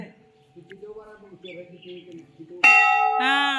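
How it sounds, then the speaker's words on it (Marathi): A large temple bell at Tapovan Mahadev temple rings out loudly near the end and keeps resonating. Before it, birds chirp and faint voices murmur. "तपोवनचा जो मोठाचा मोठा घंटा आहे तो खूप मोठा आहे"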